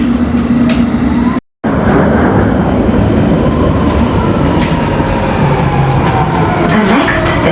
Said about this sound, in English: This is an all-station Metropolitan Line train to Harrow on Merton